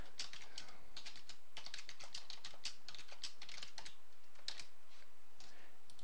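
A comment being typed on a computer keyboard: rapid, close clicking keystrokes in quick irregular bursts with brief pauses, clear against a quiet background and no speech.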